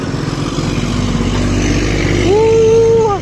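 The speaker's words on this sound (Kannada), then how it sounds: "ಒಂಥರ ಚೆಂದ ಈ ಹಳೇ ಬೈಕ್ ನಮ್ಮ ಅಪ್ಪಂದು ಓಡಿಸೋದಕ್ಕೆ ಸೂಪರ್" An old motorcycle belonging to the rider's father, ridden near home, its engine chugging steadily up close, then revving up into a higher, rising drone near the end, with no talk.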